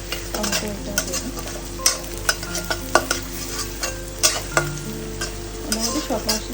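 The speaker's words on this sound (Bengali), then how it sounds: "তো যাই হোক, পেঁয়াজটা ভাজা ভাজা হতে হতো, এটাও ভাজা ভাজা হয়ে যাবে।" Sliced onion and grated green chili frying in a pan while being stirred, a steady sizzle punctuated by repeated sharp scrapes and knocks of the spatula, close and fairly loud.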